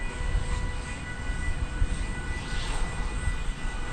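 An airliner takes off from runway 18 Left at DFW Airport, its engine roar a steady, broad rumble that holds throughout with no voices over it.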